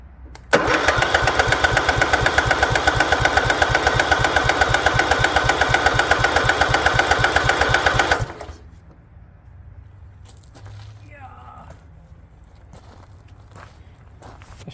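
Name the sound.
Craftsman lawn tractor engine cranking and running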